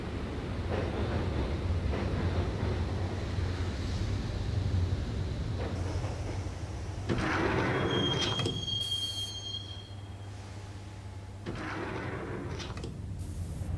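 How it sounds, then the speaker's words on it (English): A subway train rides through a tunnel in the video game Max Payne, with a steady loud rumble of wheels on rails, bursts of clattering and a thin high screech of squealing wheels partway through. "the train doors had already shut behind me, and I was in for the ride"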